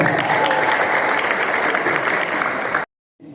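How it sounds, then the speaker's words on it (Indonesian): A crowd at a regional party assembly in Papua claps loudly and steadily for nearly three seconds, then the applause cuts off abruptly and goes quiet. "tepuk tangan buat semua"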